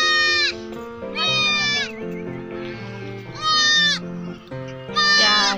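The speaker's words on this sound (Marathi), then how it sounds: "शेळीच्या करड्यांना भूक लागली त्यामुळे कशी ओरडता येते" Hungry young goats bleat repeatedly in loud, wavering calls, several overlapping cries coming in bursts close by.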